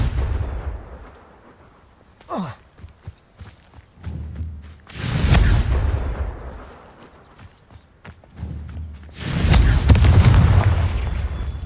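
Confringo fire spells blast in Hogwarts Legacy: several heavy booming explosions, some with a falling whoosh, land among softer footsteps and rumbling, with the loudest sustained burst near the end.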